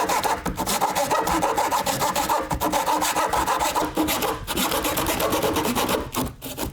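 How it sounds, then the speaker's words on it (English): A hand saw cuts through wooden door casing, guided by a flooring piece laid beneath it. Its rapid, steady rasping strokes sound up close and loud, with brief pauses near the end. "I prefer the hand saw because it's nice and simple, nice and quiet, doesn't create as much dust."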